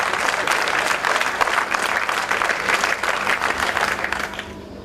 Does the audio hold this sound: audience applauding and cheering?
yes